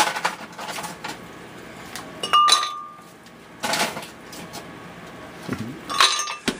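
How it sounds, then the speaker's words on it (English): Ice cubes tossed into a blender clatter and clink against the jar in three short, sharp bursts separated by quiet stretches, close and fairly loud. "Now I'm going to throw in some ice first."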